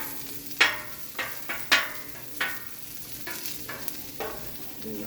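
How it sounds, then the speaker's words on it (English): Onions caramelize on a hot Blackstone griddle, a soft sizzle under a series of sharp scraping and tapping strokes from a spatula, spaced irregularly and close. "We're going to throw some onions on here to get them caramelized"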